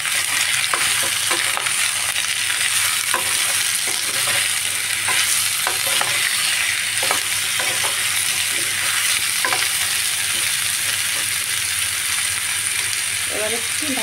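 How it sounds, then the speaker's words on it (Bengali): Mixed vegetables seasoned with salt crackle loudly in a frying pan as a spatula scrapes and stirs them in repeated strokes, a dense steady sizzle throughout. "লবণ দিয়ে আমি একটু নাড়াচাড়া করে মিক্স করে দিচ্ছি।"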